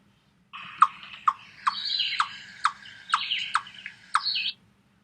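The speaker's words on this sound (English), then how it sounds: "This is a warning to the stranger chipmunk to go away." A chipmunk gives a loud warning call at a rival chipmunk while thumping its tail: a run of sharp squeaky chips and squeals, about eight accented bursts over four seconds, close and clear above a low steady hum.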